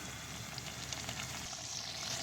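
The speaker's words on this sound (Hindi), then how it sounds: "चिकन डाल लेंगे, इसको भून लेंगे बहुत अच्छी तरह" Chicken and boiled chana dal frying in a pan, a soft steady sizzle and crackle at low volume, continuous and even throughout with no voices.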